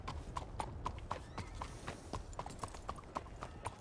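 Horse hooves clip-clop steadily in a Wild West roleplay video game, a brisk regular rhythm of about four hoofbeats per second running throughout over a low rumbling background.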